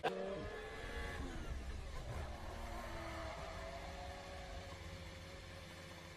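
An F1 2021 Formula 1 car's engine heard onboard, a faint, continuous, high-pitched whine whose tone shifts up and down as the throttle changes, with no distinct skid or impact standing out.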